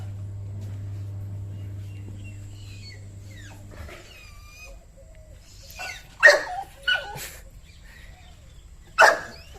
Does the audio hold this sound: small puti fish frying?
no